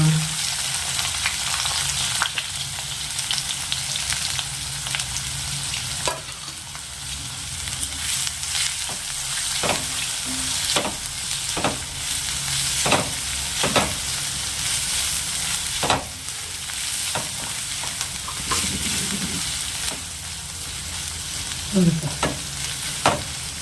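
Curry leaves, green chillies and onion fry steadily in hot oil, a continuous close sizzle broken by repeated scraping and pressing strokes of a spoon against the pan, with no talking.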